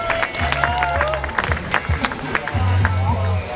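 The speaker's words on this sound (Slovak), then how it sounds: "Zatleskajte jej, diváci." Spectators applauding at a triathlon in Čunovo, scattered claps and crowd babble outdoors, with someone talking loudly over a public address throughout.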